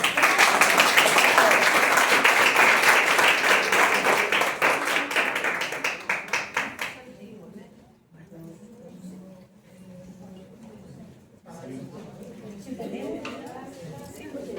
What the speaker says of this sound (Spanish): Lo aplaudimos.